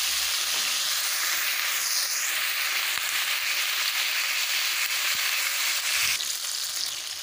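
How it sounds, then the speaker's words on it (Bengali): Cauliflower pieces frying in hot oil with turmeric and salt, a steady loud sizzling hiss running throughout with a few faint clicks of stirring, close up and without voices. "কপিগুলো আমার খুব সুন্দর করে ভাজা হয়ে গেছে।"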